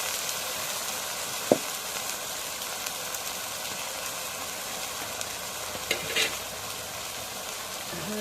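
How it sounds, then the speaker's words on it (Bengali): Ginger, cumin, turmeric and garlic paste stirred in a pan for a home-cooked duck curry: a low, steady frying hiss with occasional sharp spoon clinks and scrapes against the pan. "এখন একটু নাড়া দিয়ে দিই।"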